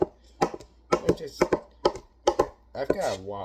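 A kitchen knife chops small bits of meat on a board, making a handful of quick, sharp knocks close by, mixed in with a person talking throughout.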